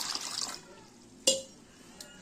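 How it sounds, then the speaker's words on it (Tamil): A brief splash of water poured into a pot, followed by a metallic clink and a faint tap; no talking. "இப்போது நம்ம தண்ணி விட்டுக்கலாம் ரசத்துக்கு வேண்டிய தண்ணி"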